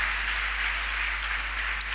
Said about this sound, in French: Vive acclamation pour le Seigneur.